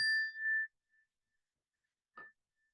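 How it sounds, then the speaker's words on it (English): A meditation bell is struck once with a clear, ringing tone that fades within a second, then is struck again more softly about two seconds later in near silence. "And with the sound of the bell,"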